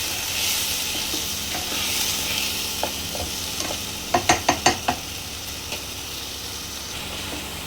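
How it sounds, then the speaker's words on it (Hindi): Steady sizzling and frying hiss of onion paste in a pan, with a few sharp spoon clicks and scrapes as it is stirred. "अब हम प्याज को अच्छी तरीके से भूनेंगे।"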